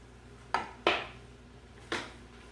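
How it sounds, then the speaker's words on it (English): A utensil stirs gnocchi and spinach in a pan, giving three sharp scraping clinks that stand alone against a quiet background. "Stir it up."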